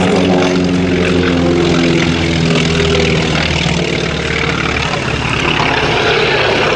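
A propeller-driven aircraft flies past at an airshow, its loud, steady engine drone with a strong low harmonic buzz sustained throughout, close and unbroken.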